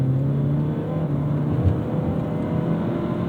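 Inline-four K24 engine in a 2010 Acura TSX with a six-speed manual and 99,000 miles, revving steadily toward 5,000 RPM and into VTEC, a continuous close engine drone with a rising tone and no talk.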